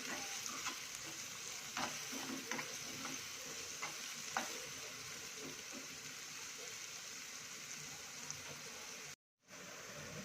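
Egg bhurji frying in a pan, a faint continuous sizzle with a few light scrapes and clicks from stirring, close but quiet, with a brief dropout near the end.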